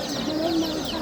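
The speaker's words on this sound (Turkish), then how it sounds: "Bıldırcın civcivler." Quail chicks at a poultry market give thin, high peeping calls that repeat in a quick, continuous chatter, close by, with a low murmur of market background underneath.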